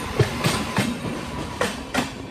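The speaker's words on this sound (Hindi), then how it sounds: "अभी जो अपोजिट साइड से एक ट्रेन आ रही है" Rhythmic clickety-clack of a passenger train passing close on the opposite track near Mathura, with regular wheel-beat thumps over rail joints against steady rolling rumble.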